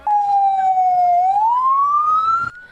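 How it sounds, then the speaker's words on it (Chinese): A fire engine siren responds to a house fire on a street in Neihu, Taipei. Its loud, close wail dips slightly, then rises steadily in pitch before cutting off near the end. "消防车警示声音直响"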